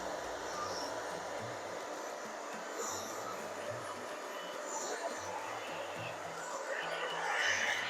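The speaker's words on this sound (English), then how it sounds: "Back and forth with the fingers up here and the blow dryer." A blow dryer runs steadily, moving back and forth to dry short, fine hair during a pixie haircut in a salon. Its even whir stays faint and continuous, with soft voices in the background.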